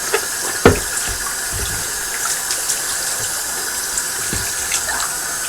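Eheim 2213 aquarium canister filter parts are rinsed under a running tap, a steady loud gush of water with a few clunks of parts knocking in the sink.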